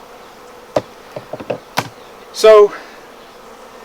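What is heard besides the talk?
honey bees buzzing around hive frames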